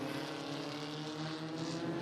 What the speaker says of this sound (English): A very big field of Formula Ford cars, powered by the 1600cc Kent engine.